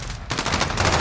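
Shotgun blasts in a Call of Duty match ring out loud and close, a sharp burst of repeated heavy shots filling the full second with no talk over it.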